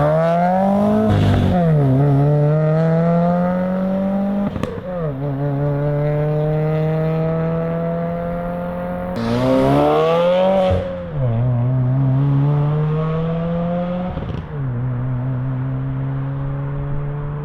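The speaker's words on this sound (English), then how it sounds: "helps cancel out that drone and any unwanted frequencies to get a pure and refined exhaust tone" Subaru WRX with an aftermarket catback exhaust, AWE or MXP, revving loudly and repeatedly, its deep burbling tone rising and falling in several sharp throttle blips and sustained holds, with no talk.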